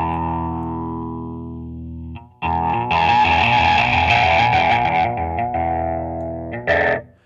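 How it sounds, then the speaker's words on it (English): An electric guitar runs through a heavy distortion pedal, sequenced with a Pilot Wave: a long sustained buzzing note, then loud, gritty, saturated chords that cut off abruptly. "So we'll keep the distortion fairly light on the first two steps."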